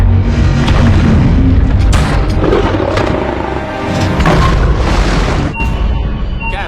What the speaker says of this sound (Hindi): हमें सोनिक धमाके सुनाई दे रहे हैं।